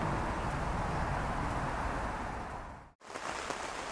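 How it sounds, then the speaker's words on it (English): Steady rain drums on a polytunnel at an allotment, a dense, even hiss throughout, with one brief near-silent dropout just before the end before the downpour resumes. "Hopefully you can hear the rain."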